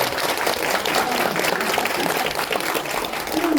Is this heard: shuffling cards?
no